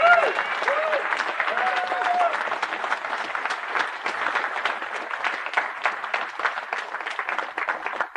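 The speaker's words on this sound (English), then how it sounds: "So please, give him more applause." Party conference audience giving sustained, dense applause that fills the room, with a few sharp whistles in the first couple of seconds and the clapping slowly thinning toward the end.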